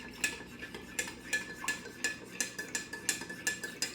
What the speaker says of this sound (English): Take my spoon and we're just going to mix this up here.